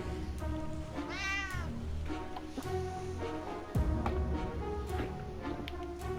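A cat meows in 60 Seconds Reatomized, several rising, wavering meows up close over game music and ambience, with a thud partway through.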